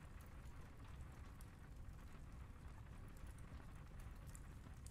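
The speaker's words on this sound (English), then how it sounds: "That sounds like rain." Steady soft patter of rain falling outdoors, a continuous even hiss with faint scattered drops, low and distant throughout with no voices.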